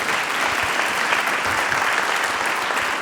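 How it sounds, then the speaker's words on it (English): A big hand for a panelist at a real estate trends conference: dense, even clapping from a seated audience, close and continuous without any talk over it. "if we could just give Jim a big hand for this"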